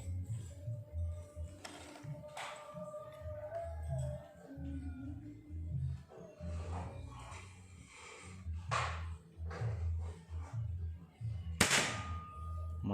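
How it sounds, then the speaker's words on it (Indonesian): A PCP air rifle is test fired at a target, several sharp, separate shots spaced a few seconds apart over a low background hum and faint voices. "Kita tes beberapa kali tembakan."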